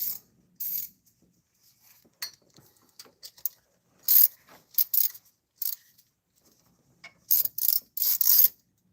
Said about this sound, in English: Here's a ratchet.